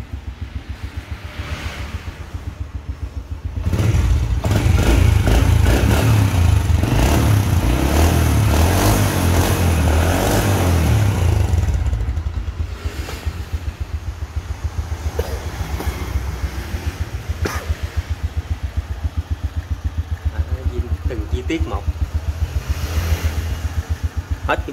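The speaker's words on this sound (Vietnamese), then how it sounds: "Đó, cái máy nổ đó." An old motorcycle engine idles close by with a steady rumble, surging into a louder, rougher roar for several seconds and then settling back to a rhythmic idle.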